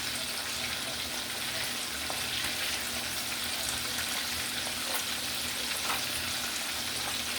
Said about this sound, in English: continue on with the frying of the fish